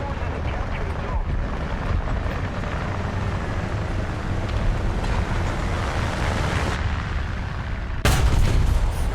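Artillery fire from self-propelled howitzers in the War Thunder tank game, a dense, continuous barrage of booming blasts and rumbling noise, with a louder burst near the end.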